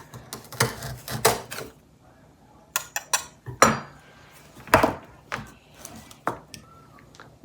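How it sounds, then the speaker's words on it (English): A knife, plain or serrated, cuts a small hole into a crisp sugar cone for a bird feeder, making a run of short, close crunchy snaps and scrapes in irregular bursts, some of them clustered quickly together. "take your knife or a serrated knife and cut just a little bit"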